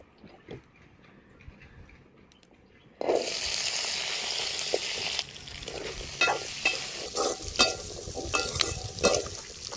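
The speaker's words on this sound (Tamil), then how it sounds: "வெங்காயம் பூண்டு இஞ்சி ஆமாம் எல்லாம் எடுத்துகிட்டு வந்துருக்கேங்க எல்லாம் போட்டு வறுத்து வணக்கிக்கலாம்" Onion, garlic, ginger and spices sizzle and fry in a hot pan, a loud steady hiss with stirring scrapes and clatters throughout; no talking.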